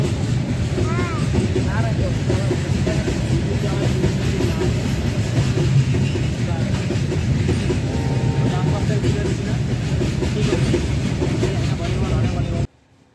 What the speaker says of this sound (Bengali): তো আর দেখো যে কত বড় একটা ট্রেন যাচ্ছে